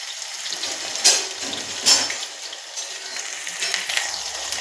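Onions, green chillies and spices frying in a pan over a low gas flame, a steady soft hiss and crackle with two brief louder bursts of sizzle as the mix is stirred, close and without talk.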